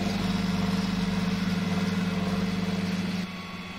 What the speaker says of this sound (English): So I'm gonna take this tractor here, this John Deere that needs a good washing.